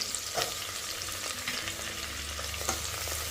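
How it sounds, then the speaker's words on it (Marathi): Onions and spring onions sautéing in a pan for a Makar Sankranti bhogi vegetable dish, a soft continuous sizzle with a few brief spatula scrapes, close and alone. "जास्त परतायचा नाही कांदा फक्त ट्रान्सपरंट हो द्यायचं"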